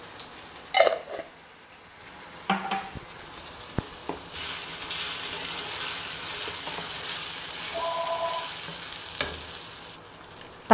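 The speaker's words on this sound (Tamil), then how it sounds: "வெங்காயம் இப்போ வதங்கிருச்சு பாருங்கள்" Onions and green chillies sautéing in a pan, a soft continuous sizzle with a few sharp clinks and scrapes of stirring, fairly quiet and close, with no voice.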